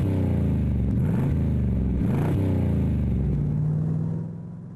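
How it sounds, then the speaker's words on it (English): Italia Spyder sports car engine rumbling through ANSA dual exhaust pipes, a loud, deep, steady note that rises and falls slightly as it revs before dropping off at the end. "the sound coming out of the ANSA dual pipes is enough to make your hair stand on end"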